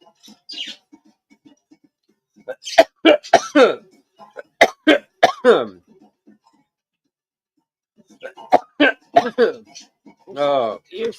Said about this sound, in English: You're still coughing like crazy.